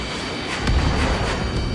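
A missile explosion in a combat video game lands as a single dull boom over steady engine-like rumble, fairly loud but brief.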